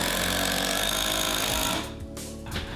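A power saw cuts a block of wood, a loud continuous buzzing whine that drops off partway through, followed by a few quieter rattles.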